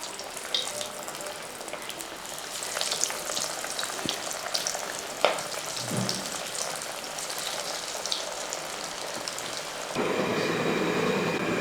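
Chicken nuggets fry in hot coconut oil with a continuous close crackling sizzle, rain-like and steady, a few clinks along the way and the hiss growing louder near the end; no voices.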